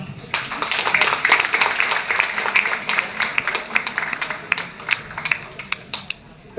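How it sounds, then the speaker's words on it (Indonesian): Audience applause at a product testimonial event in a hotel in Yogyakarta: a moderate crowd claps steadily for several seconds, the claps growing sparser and more individual toward the end. "Tepuk tangan dong."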